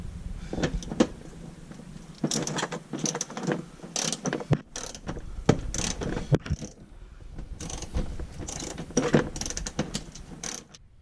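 Ratchet clicks while a bolt is worked out of the front bumper of a Dodge Grand Caravan during bumper replacement, bursts of close mechanical ratcheting in quick repeated strokes with short pauses between.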